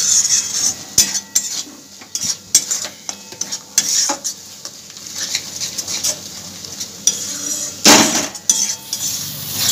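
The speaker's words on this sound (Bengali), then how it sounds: "আবারও খুব ভালো করে মিশিয়ে নিচ্ছি" Spices ground into a paste are stirred into a soybean and paneer curry in a pot, with a spoon repeatedly scraping and clinking against the metal amid a soft sizzle, close and steady with no talking.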